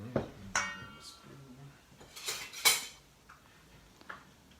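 Fish taco filling stirred in a pan, with a few sharp utensil clinks and scrapes against the metal spaced through the clip, fairly close and moderately loud, and brief quiet voices between them.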